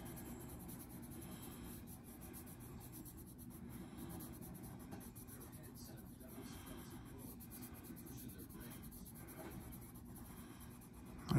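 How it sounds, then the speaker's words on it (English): A Prismacolor pencil scratches across paper in steady, soft strokes while shading, a faint continuous rubbing with a brief louder bump at the end. "when you're drawing a Prismacolor pencil, I like to just try to get the little white marks"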